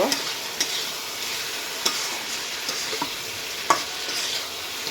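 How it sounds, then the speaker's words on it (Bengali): Hilsa fish frying in a pan while being stirred, a steady hiss of sizzling oil broken by several sharp clinks and scrapes of the utensil against the pan, close and fairly loud, with no talking. "ঠিক এটাকে একটু নেড়ে চেড়ে নেব।"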